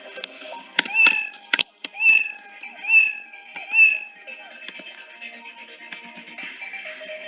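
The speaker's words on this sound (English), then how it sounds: "I think I should better put play sound meow." Scratch cat meow sound effect playing four times in a row, separated by pauses, with several sharp keyboard or mouse clicks nearby.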